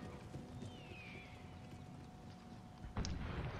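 Cavalry horses in Empire Total War, American Civil War setting: a steady trotting clip-clop of hooves over low battlefield rumble, with a faint whinny early and a sharper burst near the end.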